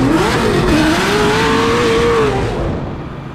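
A race car engine howls at high revs with a rising and falling pitch, as a gear change falters and the note dips and wavers. It is loud and close, then fades out near the end.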